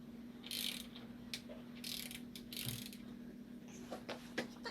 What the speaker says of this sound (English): Get the ratchet and tighten that thing down.